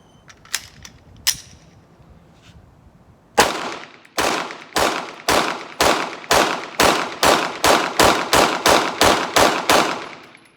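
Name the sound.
Glock pistol shot one-handed with Shield Arms magazine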